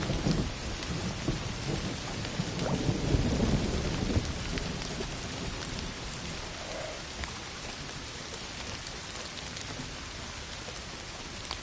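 Steady rain pours down with a deep rumble of thunder rolling in early and fading out, in an Indiana Jones video game, with no voices.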